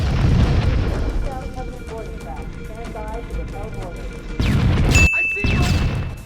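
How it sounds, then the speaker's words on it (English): In a death scene from an early Halo game, objects across a room detonate one after another, heavy booming blasts under a droning tone that grow louder and end in a sharp final burst. "Everything in the room starts slowly exploding until suddenly you're reverted back to your last checkpoint"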